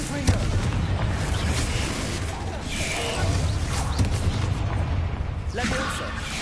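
Confringo fire-spell blasts in the video game Hogwarts Legacy sound as loud, rumbling booms and explosive bursts in rapid succession, with a voice calling out among them.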